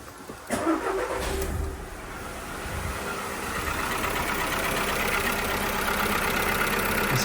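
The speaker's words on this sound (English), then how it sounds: "I'm going to start the car" A 2010 VW Polo with a faulty alternator cranks over and catches with a short burst near the start, then settles into a steady, fairly loud idle that runs on without a break and without any talk.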